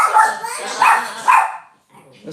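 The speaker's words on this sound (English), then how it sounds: "That's the dog barking for us." Dog barks three times in quick succession, fairly close and loud, with a person talking nearby before a brief quiet pause.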